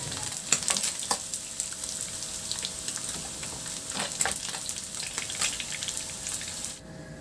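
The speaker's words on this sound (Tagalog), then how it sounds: "Sa disim na kawali, binawasan ko yung mantika. Igisa ko na rin yung luya." Ginger sautéing in a small amount of oil in a hot pan, a steady close sizzle with scattered crackling pops and light stirring, no voices.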